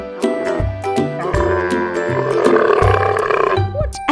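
A camel on a farm grunting, a series of deep, rough, rumbling grunts in quick succession, close and loud, filling the clip with no talking.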